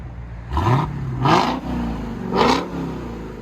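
A stock Dodge Charger Hellcat Redeye V8 with a Borla ATAK cat-back exhaust revs three times close by, each rising roar falling back to a deep idle rumble.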